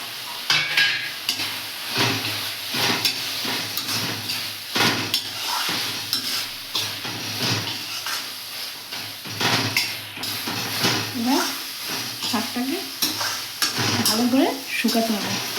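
Prawns and red amaranth greens fry and are stirred in a pan. Steady sizzling runs under repeated scraping stirs close by, with occasional clinks of utensil on metal and no talking.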